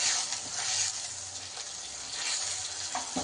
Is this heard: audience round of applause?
no